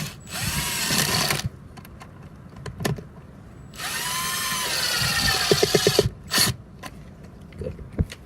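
A power drill drives a screw into an outdoor irrigation valve box in two whirring bursts, each rising in pitch, with quick ratcheting clicks and clatter between them.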